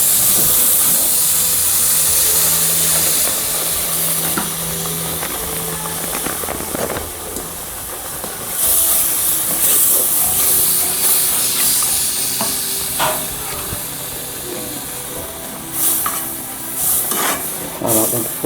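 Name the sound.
milk poured into hot pan and stirred for cauliflower gratin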